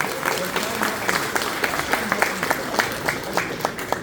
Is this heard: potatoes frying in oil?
no